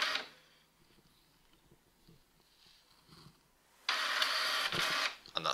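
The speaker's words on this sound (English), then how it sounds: "And that's our document printed." A wireless home printer prints a document: a faint whir and clicks at first, then a loud, steady mechanical rush of the paper feed for over a second, ending abruptly with a final clunk.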